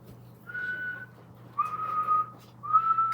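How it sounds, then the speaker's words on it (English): A person whistles three sustained notes, each held for about half a second with short gaps between, close and clear over a low steady hum. "It's a whistle."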